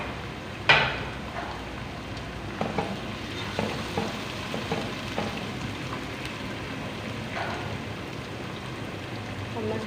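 Tomatoes go into a hot pan with ginger and garlic for a potato and cauliflower dish, giving a sharp hiss at first. After that comes a steady, crackling fry with a few stirring scrapes, and no one speaks.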